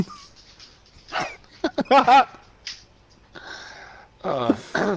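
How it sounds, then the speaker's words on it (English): Dogs bark and yip in short bursts at close range, with some whimpering between the barks. "Sorry if you guys hear barking in the background."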